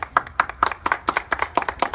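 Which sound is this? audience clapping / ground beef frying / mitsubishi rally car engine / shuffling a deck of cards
audience clapping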